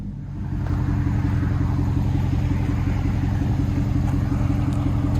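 A Dodge Durango with an aftermarket muffler and X-pipe exhaust idles steadily, a deep, even low rumble that holds close and loud without changing pace.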